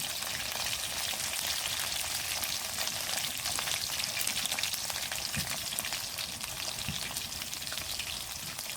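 Potatoes seasoned with salt frying in a pan, a steady dense sizzle and crackle of hot oil running unbroken throughout, close and even, with faint occasional stirring.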